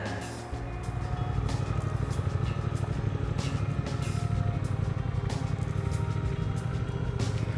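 A van cruising the winding country back roads of the canton of Vaud, Switzerland, its engine a steady, continuous drone with road rumble heard from inside the cab, no one talking.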